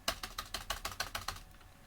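Fingers type HTML on a computer keyboard in a rapid, even run of about a dozen crisp keystrokes, close and dry, with no voice over them.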